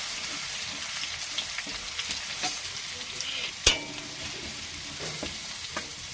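Garlic fries in a pan with a steady, close hiss of sizzling oil, broken by occasional light scrapes of a spatula and one sharper clack partway through.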